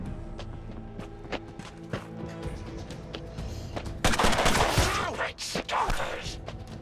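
Weapons firing in the video game Mutant Year Zero: Road to Eden: a sudden loud burst of several overlapping shots near the end, over a steady bed of game ambience.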